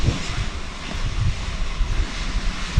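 Aircraft engine noise at an airport terminal area, a steady broadband roar that holds level and fairly loud throughout with no talking.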